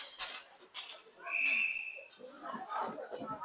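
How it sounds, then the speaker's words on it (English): A referee's whistle at an ice hockey game sounds one sustained shrill blast under continuous play-by-play commentary and arena noise. "So a couple quick whistles"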